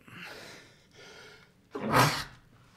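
A single sneeze bursts out near the end, preceded by a couple of soft, drawn-in breaths, close and fairly loud against a quiet background.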